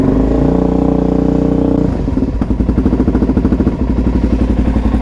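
Motorcycle engine idling on a cold day, loud and close, at first a smooth steady throb, then settling into a lumpy, clattering pulse with a regular beat.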